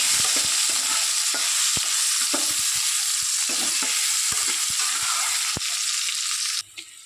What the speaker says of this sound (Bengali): একই তেলের মধ্যে আলুটাকে একটু ভেজে নেব।